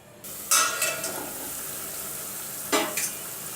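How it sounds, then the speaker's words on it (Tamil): Kurma gravy simmers in a pan with a steady soft hiss and bubbling, broken by two brief scraping stirs about two seconds apart. "இது நல்லா கொதிக்கிட்டோம்."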